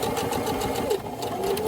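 A sewing machine runs a straight stitch through repurposed denim jeans, a close, steady mechanical chatter that carries on without pause.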